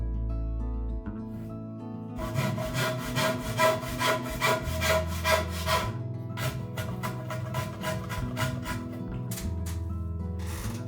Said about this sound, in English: I cut a 15mm tenon on both sides of the edges.